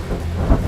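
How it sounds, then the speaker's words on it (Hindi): Heavy rain pours with a low rumble of thunder, a loud, dense, continuous wash filling the whole moment with no voices. "बहुत बारिश हो रही है"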